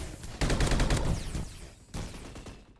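An MP5 fires in the Roblox shooter Energy Assault, a long sustained automatic burst up close followed by a shorter second burst, loud and rapid.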